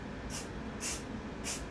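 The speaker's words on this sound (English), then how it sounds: "Give her a little spray." Three short hissing bursts of aerosol spray paint on an RC rock crawler body, evenly spaced, fairly quiet against a steady background hum.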